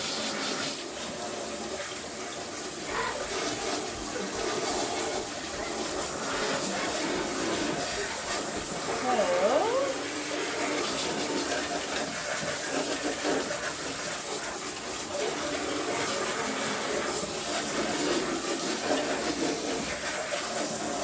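A water tap runs steadily into a sink while a cloth diaper is rinsed. The hissing flow continues throughout with occasional splashes, and a voice talks faintly underneath.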